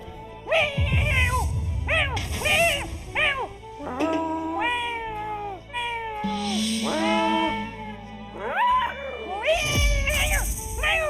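A human voice mimics an angry cat, yowling and caterwauling in a series of rising, strained cries, loud and close, over a low rumbling background.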